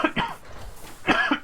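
Coughing from a man streaming Warframe: a couple of short rough bursts close to the mic near the start, then another harsher burst about a second later.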